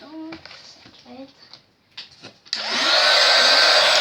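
A hair dryer switches on and roars steadily, loud and close, to dry a wet art journal page, after a few seconds of voices and small handling noises.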